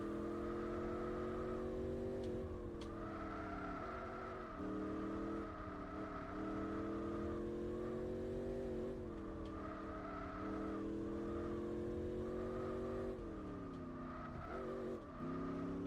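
A racing car in Gran Turismo 4 drones steadily at high revs, its engine pitch rising and dropping through gear changes while tires squeal through the corners. The sound is loud and continuous.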